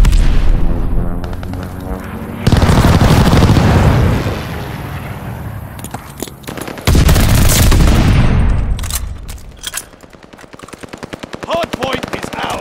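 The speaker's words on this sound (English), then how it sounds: "Allied airstrike coming in hot" An allied airstrike in Call of Duty Vanguard hits in loud, close bursts of rapid gunfire and heavy explosions, two big blasts then a rattling fusillade trailing into scattered shots, with game voice callouts mixed in.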